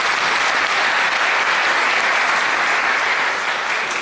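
Sustained audience applause at an award ceremony during a knowledge day event in Dijon, a dense, even clapping that fills the whole stretch at steady loudness and eases slightly near the end.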